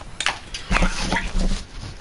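A dog in a room whimpers and yips softly in a few short, high, close cries with brief pauses between them, with no talking.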